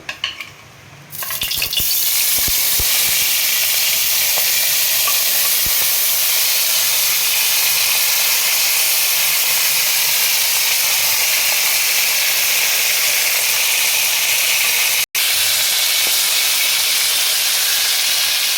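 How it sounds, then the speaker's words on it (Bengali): Prawns fry in hot oil in a wok (kadai) with a loud, steady sizzle and hiss that starts after a short clatter and runs continuously. "প্রথমে মাছগুলো আমি একটু সাঁতলে নেব"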